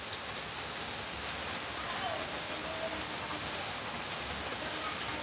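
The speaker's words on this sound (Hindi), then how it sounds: "बारिश बहुत तेज हो रही है तो इस वजह से भी नेट का प्रॉब्लम हो रहा है।" Heavy rain pours down in a dense, unbroken hiss that holds steady from start to finish, with no gaps or lulls.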